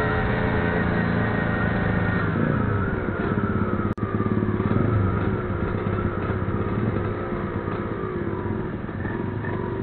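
A motorcycle with a modified exhaust riding through the city at night, a loud, steady engine drone close by that rises and falls slightly in pitch as it cruises, with a brief dropout midway.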